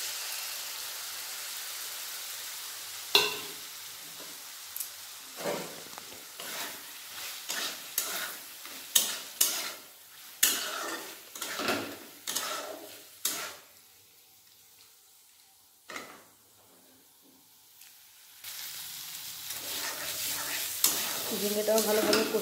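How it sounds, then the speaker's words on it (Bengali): Pre-fried ridge gourd is stir-fried with spice paste in a pan, producing repeated scraping spatula strokes over sizzling oil, a quieter stretch midway, then a steady sizzle returning at the end. "ঝিঙেটাও ভালোভাবে কষিয়ে নিয়েছি মশলার সাথে।"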